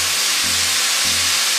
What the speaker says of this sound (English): now we're gonna go in with our light soy